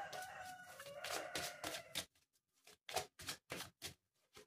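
A rooster crowing at a distance, a drawn-out call followed by a string of short, evenly spaced bursts that fade out.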